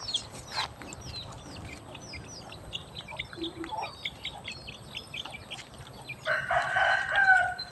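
Chickens cluck and chirp nearby, with a rooster crowing loudly toward the end over a rustling farmyard background.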